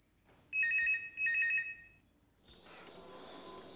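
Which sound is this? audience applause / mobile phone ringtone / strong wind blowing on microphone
mobile phone ringtone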